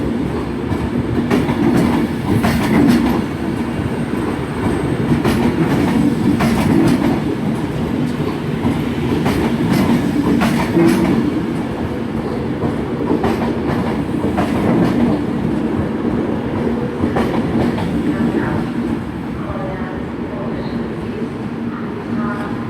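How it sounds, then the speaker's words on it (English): Avanti West Coast Pendolino unit 390016 pulls out of Glasgow Central bound for London Euston, a steady loud rumble of rail traffic with rhythmic wheel clatter running throughout under station ambience. "Route 90016 heading out on the 1040 Avanti West Coast, departure for London Euston."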